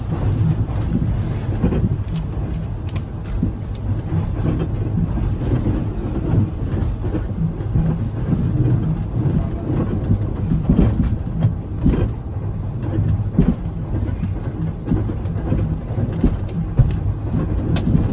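Aboard the Shalimar Express on a Pakistan rail journey from Lahore, the train rolls along the track with a constant heavy rumble, rhythmic clickety-clack of wheels over rail joints and occasional creaks from the carriage, loud and steady with no talking.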